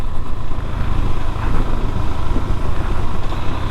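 Close, loud rumble of a KTM Duke 390 BS6 engine as the rider drops through the gears, a rough pulsing drone over wind noise that holds steady for a few seconds with no talking.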